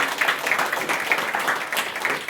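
A church congregation at a Sunday service claps loudly and steadily, a dense wash of many hands applauding with no pauses.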